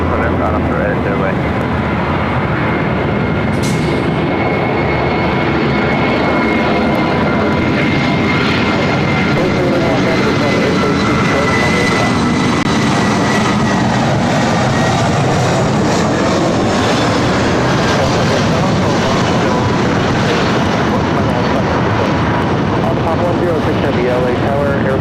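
A Lufthansa jet airliner takes off at LAX with a loud, sustained roar that fills the whole stretch, while radio voices talk over it.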